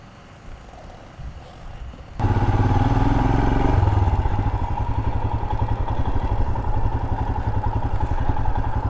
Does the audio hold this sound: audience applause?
no